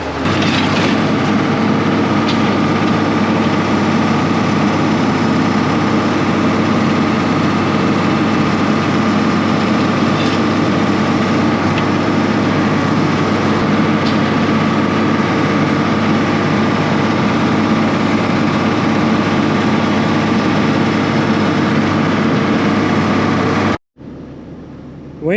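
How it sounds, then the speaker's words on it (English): A Case 1070 tractor tows a hay baler, its heavy diesel engine droning loud and steady at constant revs for the whole stretch before cutting off abruptly near the end. "now I'm hooked on to my baler, and we'll head up and start baling some hay again"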